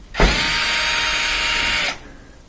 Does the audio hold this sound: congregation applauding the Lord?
no